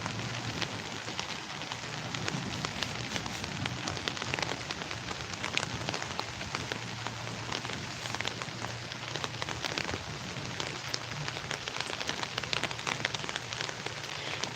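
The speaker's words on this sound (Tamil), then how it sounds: "நம்ம ஊரில் மழை வந்துட்டுருக்குது" Steady rain falling in a Tamil Nadu village, dense crackling patter on surfaces heard close and continuous at an even level, with no voices over it.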